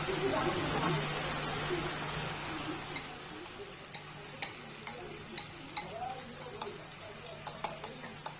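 Masala for egg chilli chicken sautéing in a pan, a soft continuous sizzle with a spatula scraping and knocking against the pan in repeated, increasingly frequent clicks, while a person speaks faintly.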